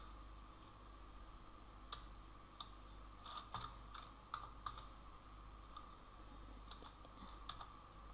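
Text typed on a computer keyboard, quiet clusters of light key clicks in short irregular bursts with gaps between, over a faint steady hum.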